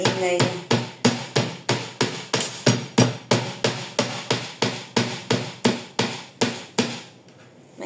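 Food chopped with a knife on a cutting board, about twenty sharp, evenly spaced chops close up in a brisk steady rhythm before stopping near the end.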